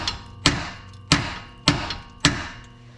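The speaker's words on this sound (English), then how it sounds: "you hit it here on the top, this metal part where the bolt goes through." A hammer strikes the metal tie rod on a vehicle's pitman arm during drag link replacement, four sharp, ringing metallic blows spaced about half a second apart, close and loud with no talking.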